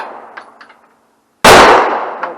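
A single loud, close gunshot from a Remington 700 7mm Magnum rifle cracks at an outdoor range after a stretch of near silence, its sharp blast decaying into a ringing echo.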